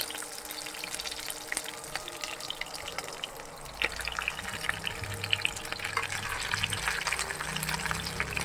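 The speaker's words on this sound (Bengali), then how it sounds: "আমগুলোকে একটু ভেজে নেব তেল দিয়ে" Raw mango pieces frying in oil for a sweet-sour-spicy pickle, a continuous close hiss and bubbling sizzle that grows denser and louder partway through, with no talking.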